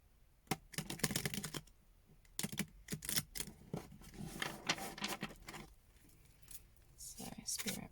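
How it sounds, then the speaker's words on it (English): Tarot cards shuffle in quick riffled bursts, crisp and close, several bouts separated by brief pauses with soft rustling between. "So I'm just going to shuffle one more time"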